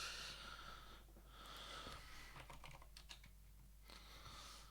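Rapid, erratic keyboard typing with bursts of clicks amid a steady background hum, from a malfunctioning computer keyboard during a League of Legends in-house match.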